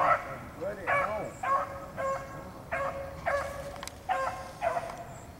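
A Bluetick coonhound bays in a steady run of about seven short barks at moderate distance, each spaced roughly half a second to a second apart, outdoors with low background noise and someone talking faintly between barks.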